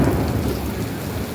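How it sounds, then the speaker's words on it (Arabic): Heavy rain in Alexandria pours steadily, with a deep continuous rumble of thunder underneath, loud and close, no voices. "الرعد. شايفين الرعد؟"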